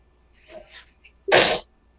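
A woman sneezes once, loud and close, preceded by a softer intake of breath, during a casual sports podcast recording.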